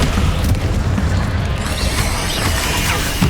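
The Descendo spell in Hogwarts Legacy slams a foe down with a heavy, booming crash over dense, rumbling battle noise that stays loud throughout.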